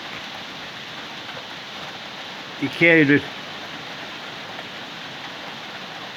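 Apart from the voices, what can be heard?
heavy rain falling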